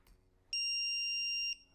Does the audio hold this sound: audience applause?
no